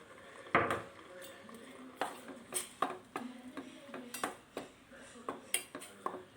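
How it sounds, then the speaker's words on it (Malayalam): Crushed mustard is stirred into a capsicum and yogurt pachadi, with a quiet run of irregular spoon clinks and taps against the bowl, fairly close and without talk. "ഇനി ഇതിലേക്ക് പൊടിച്ച് വെച്ച കടുക് ചേർത്ത് ഇളക്കാം"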